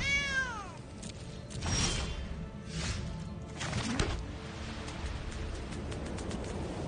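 Cats meowing in the Magic The Gathering video game, several drawn-out meows one after another, clear and close with no talk.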